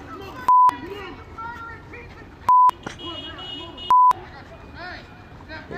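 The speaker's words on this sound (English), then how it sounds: "Give me a lot of beeps." Three loud, flat censor beeps cut sharply through lively speech and crowd chatter, each lasting a fraction of a second.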